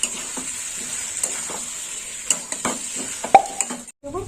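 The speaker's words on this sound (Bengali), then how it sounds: "দিয়ে দেবো লাল লঙ্কার গুঁড়ো দিয়ে এবার কষে নেবো" Malabar spinach curry being stir-fried with red chilli powder and coriander powder: a steady oil sizzle runs under rhythmic spatula scrapes and stirring taps against the pan, close and fairly loud, with no talking.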